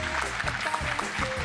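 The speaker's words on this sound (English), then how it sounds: "Please give him a round of applause." A short burst of audience applause at an awards nominations announcement, dense and steady clapping with faint voices underneath.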